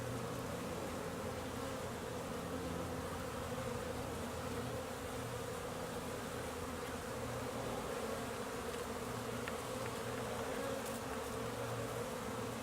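Honeybees swarm busily around a hive entrance on a warm late-March afternoon, a dense continuous buzzing drone that holds steady and fairly faint throughout, with no voices.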